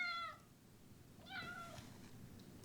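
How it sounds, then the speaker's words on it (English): A cat meows twice during a theatre play, a short cry followed by a longer, drawn-out one, fairly faint over a low background hum. "That must be the cat."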